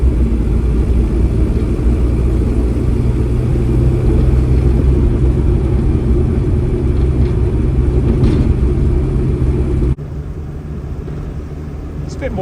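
A 1963 Morris Mini Minor 850 Mark 1 rolls along the road, its small 850cc engine a steady, loud low rumble with road and wind noise, easing slightly quieter near the end.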